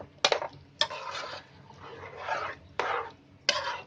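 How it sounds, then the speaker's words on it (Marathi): A dal and spinach mixture being stirred in a pot over low heat: a utensil scraping and knocking against the vessel in separate strokes, with sharp clinks between the wet stirring sweeps, close and alone. "हे सर्व मिक्स करायचं."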